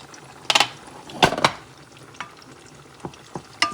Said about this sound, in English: Quick stir, just a very quick one.